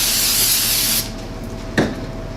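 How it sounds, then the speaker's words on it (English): Aerosol brake cleaner sprayed onto metal in a workshop, a loud steady hiss for about a second that cuts off, followed by a brief second burst. "So just spray it down with brake clean."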